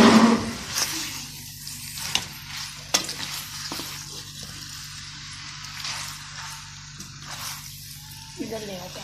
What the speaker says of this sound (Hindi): मोस्ट डिफिकल्ट वर्क इसको मिक्स करना, तो मिक्स करेंगे